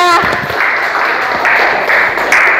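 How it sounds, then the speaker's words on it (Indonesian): A classroom applauds group 3 with a dense, steady patter of clapping that swells and holds for a couple of seconds, a brief voice at the start. "Tepuk tangan untuk kelompok 3."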